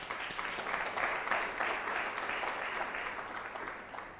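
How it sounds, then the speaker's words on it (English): Audience at a financial technology conference applauds a sponsor, a sustained, even round of many hands clapping at moderate volume, gradually tapering toward the end. "Let's clap for them."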